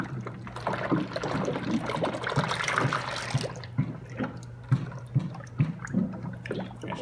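Liquid mix churns and bubbles inside a SaniServ frozen beverage machine, a dense gurgling wash that thins into scattered pops and glugs.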